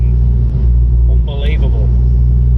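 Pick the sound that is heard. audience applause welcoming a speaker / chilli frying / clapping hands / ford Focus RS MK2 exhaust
ford Focus RS MK2 exhaust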